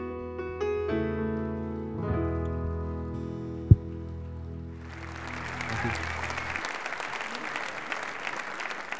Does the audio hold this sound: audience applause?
yes